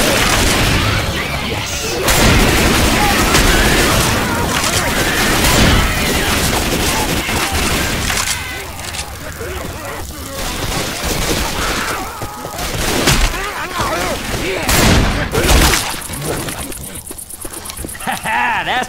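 Dense gunfire with incendiary ammo in Left 4 Dead 2, loud continuous bursts of shots and impacts mixed with game noise and voices talking throughout.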